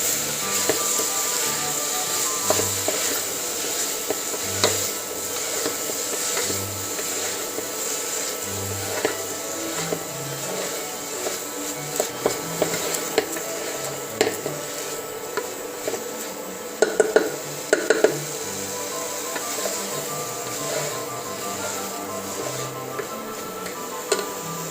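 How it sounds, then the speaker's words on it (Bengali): Boiled cauliflower, peas and potatoes stirred in a pan for a light curry, a steady sizzling hiss with repeated soft scrapes and knocks of the spoon, plus a few sharper clinks near the end, all close by. "ফুলকপি, মটরশুঁটি আর আলুটা দিয়ে হালকা নাড়াচাড়া করে"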